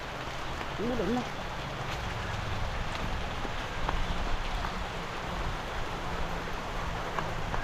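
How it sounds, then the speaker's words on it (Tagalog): Steady rain falls as a soft, even hiss that runs unbroken throughout, with a faint, brief voice-like sound near the start. "Ulan na."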